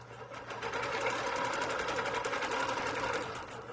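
A longarm quilting machine starts sewing out a design, with a rapid, even needle chatter that swells in and holds steady, close and clear.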